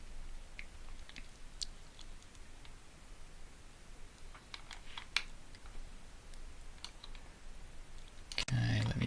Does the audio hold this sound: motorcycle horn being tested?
no